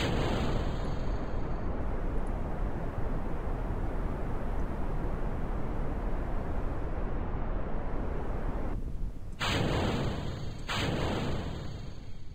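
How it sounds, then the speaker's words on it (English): The Sounding Rocket 1 (SR1) lifts off in Kerbal Space Program with a loud, sustained engine roar. Dense rumbling noise holds steady for about nine seconds, then drops out briefly and returns in short bursts. "So this is the SR1, the Sounding Rocket 1, launching in 3, 2,"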